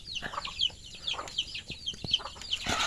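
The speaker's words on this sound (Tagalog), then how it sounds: "Ito ang alaga naming mga manok." Several chickens cluck and chirp close by in quick, overlapping bursts, a busy flock sound with no talking over it.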